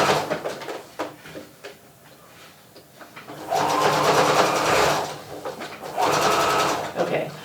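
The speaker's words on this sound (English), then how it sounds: "I'm going to sew all the way to my first mark" A home sewing machine stitches fabric for a nursing cover in two sustained runs, steady and close, separated by a quieter pause with faint handling noise and talk.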